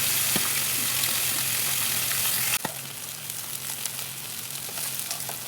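Fish pieces for a Bengali macher jhol fry in hot oil in a pan, giving a close, steady crackling sizzle that drops a little quieter halfway through after a brief clink.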